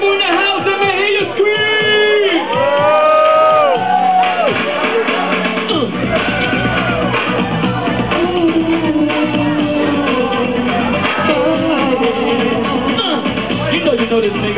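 Party crowd shouts, whoops and screams loudly in a packed room, with excited voices rising and overlapping and some sung or shouted calls on top, continuous and close.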